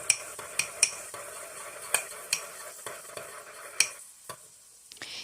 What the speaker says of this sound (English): I'm just using another spoon to get some seasoning and everything that got stuck on the spoon